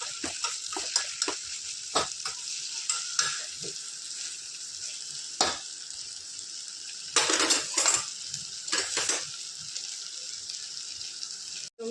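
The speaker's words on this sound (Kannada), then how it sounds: "ಇವಾಗ ರೊಟ್ಟಿ ಮಾಡೋಣ. ಬಿಸಿ ಬಿಸಿ ರೊಟ್ಟಿ ಜಗಲ್ಲಿ" Rotti cooks on a hot pan with a close, steady sizzle, and several sharp clinks and scrapes of utensil against metal break in near the middle and end.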